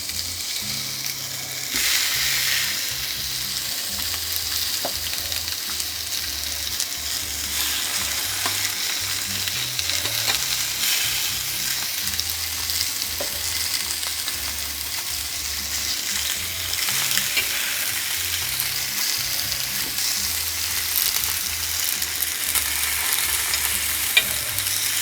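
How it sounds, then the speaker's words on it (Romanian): A pork chop sizzles steadily in a hot frying pan, a loud, close, continuous crackling hiss with small pops and occasional stirring scrapes, no voices. "După cum sfârâie, s-a încins."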